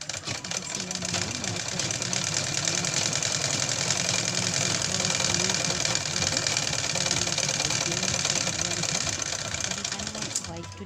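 A sewing machine runs nonstop, stitching fabric from old jeans with a fast, even mechanical rattle and hum, close and loud throughout.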